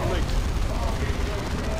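Heavy bolter firing in the Dawn of War 2 strategy game: a loud, continuous barrage of rapid booming shots that blurs into a dense rumble, layered over thick battle din for the whole moment.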